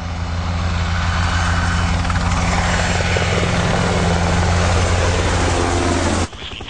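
A US Army Black Hawk military helicopter flies overhead with a loud, steady rotor thump and turbine roar, continuous and close, then the sound drops abruptly near the end.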